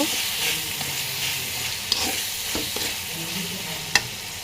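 Beef tripe fries with turmeric, coriander powder and salt, giving a steady sizzling hiss. It is broken by a few sharp clinks of stirring in the pan, with no talk.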